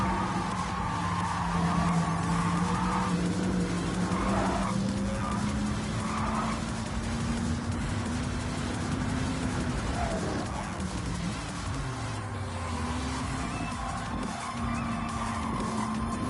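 Race car in Gran Turismo 7 on the Colorado Springs circuit, with a steady engine drone and sustained tire skidding and squealing, loud and continuous throughout.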